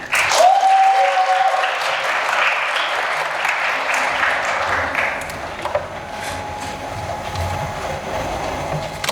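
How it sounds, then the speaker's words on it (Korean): Steady applause from a crowd fills the whole stretch, dense clapping holding at an even level without a break. "박수로 모셔보도록 하겠습니다."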